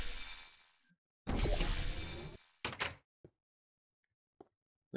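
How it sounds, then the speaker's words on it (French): A door opens in a Minecraft portal-themed map, a brief burst of game sound followed by a longer loud sweeping swoosh, then a few short clunks and clicks trailing off into silence. "c'est la porte"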